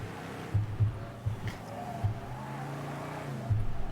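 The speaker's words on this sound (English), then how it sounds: "Let's drive one of their trucks." A truck drives in the video game Mafia 3, its engine rumbling steadily with a few low thumps and a brief rise in pitch, close and moderately loud without talk.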